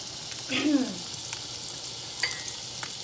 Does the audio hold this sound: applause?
no